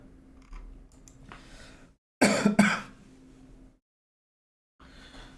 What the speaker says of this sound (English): I don't know why this cough is not going